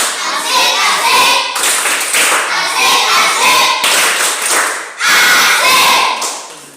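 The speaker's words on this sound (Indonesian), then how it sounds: "kita berikan aplaus lagi untuk kelompok 3 dengan tepuk asik" A classroom group claps together in a rhythmic patterned chant-style clap, loud and close, with children's voices mixed in across several bursts.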